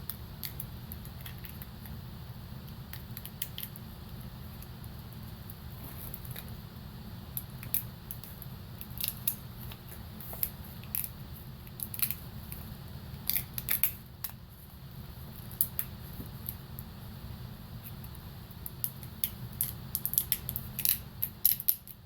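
Scissors snip mesh sleeving for a wiring harness on a 7.3 build, producing a string of small, sharp, close clicks and cuts spread across a quiet background hum.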